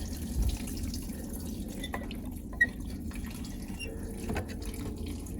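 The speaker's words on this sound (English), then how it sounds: "I'm just going to carefully pull the water pump off, and there goes the coolant" Coolant drains from a Toyota Camry water pump, pulled off during a timing belt job, into a bucket placed underneath: a steady low wash of liquid with a few faint drips, and no talking.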